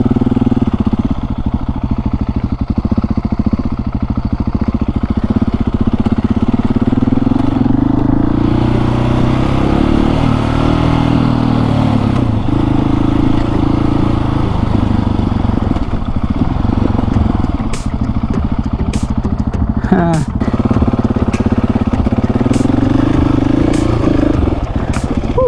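A KTM 701 Supermoto is ridden off-road, its single-cylinder engine droning loud and continuous with rising and falling revs and occasional clatter from the rough ground.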